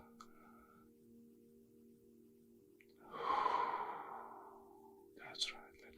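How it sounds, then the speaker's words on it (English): A single deep breath is drawn in during a quiet relaxation session, a soft breathy swell rising about halfway through and fading, with a brief faint breath or sniff near the end over a low steady hum. "Now take a deep breath."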